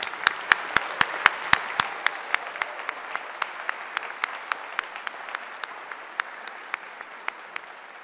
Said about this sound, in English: let's take a moment to thank them too with a round of applause